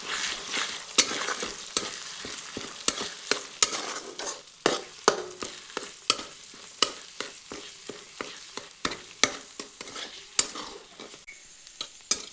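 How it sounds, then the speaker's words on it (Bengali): Eggs are scrambled and fried in a pan, a soft sizzle broken by frequent sharp scrapes and taps of a spatula against the pan in an irregular, busy rhythm, close up and without talk. "তো দিয়ে ডিমগুলি গুঁড়ো করে ভেজে নিচ্ছি।"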